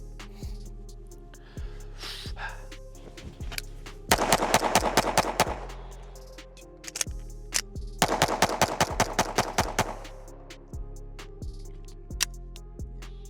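Staccato HD C4X pistol fires at an outdoor range: sharp single shots spaced out, then two rapid strings of many rounds, with scattered shots in between.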